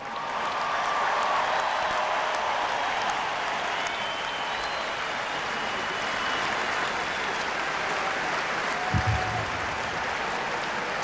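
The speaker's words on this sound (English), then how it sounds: "His sons are applauding more than anyone else." A crowd applauds steadily at a hockey jersey retirement ceremony for Luc Robitaille, a broad wash of clapping that holds for about eleven seconds with a brief thump near the end and no speech.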